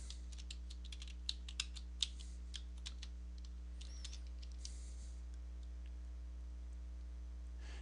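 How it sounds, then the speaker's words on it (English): Someone types a password on a computer keyboard at a Linux login dialog, a quick run of soft key clicks with a few sharper taps, then the keystrokes thin out into quiet under a steady low electrical hum. "So I'm going to type in my password."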